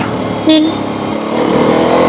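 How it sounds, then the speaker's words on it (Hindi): Motorcycle engine running while riding on a road near Solan, a steady loud drone with a brief higher tone near the start, close and continuous without speech. "अब बाइक का जो इंजन है खुल चुका है, परफॉर्मेंस इन्हेंस हो चुकी है"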